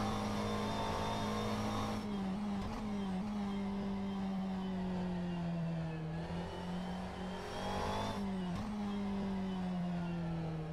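A race car engine in a sim racing game, holding a steady, loud droning pitch that drops sharply on each gear change and then climbs again under throttle, with three or four shifts heard close up and no talk.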